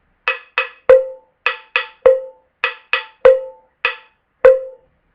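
An open cowbell pattern repeating over about five seconds, with lighter paired hits alternating with stronger ringing accents, clear and unaccompanied.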